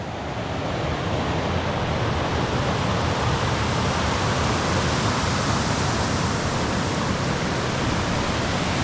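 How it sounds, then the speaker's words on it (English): Water rushing down falls below a dam at Poe Valley State Park, a steady, loud, broadband roar that fills the air without pause. "I'm pretty sure I hear some bigger falls down here"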